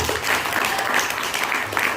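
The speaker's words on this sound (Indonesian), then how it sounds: "Tepuk tangan buat kalian dulu." An audience of young people at a Catholic Mass and recollection gathering in Surabaya bursts into brief, brisk applause, a busy crackle of clapping lasting about two seconds.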